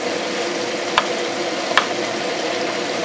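Hot oil fries and bubbles in a pan for Malaysian-style rice porridge with ginger, giving a steady close sizzle with a couple of sharp pops and spatters.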